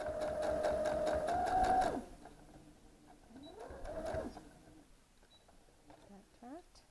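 A sewing machine whirs steadily for about two seconds while tacking stitches, then stops, followed by quieter handling sounds and a shorter mechanical burst, close up.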